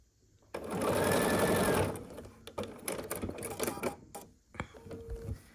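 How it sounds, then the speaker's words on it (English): A sewing machine stitches three quilt squares together with a quarter-inch seam, running in a loud steady burst, then stopping and restarting in shorter, quieter runs punctuated by clicks and handling noises. "So we're just going to sew these 3 squares together in this order. So we're sewing here with 1/4 of an inch seam allowance."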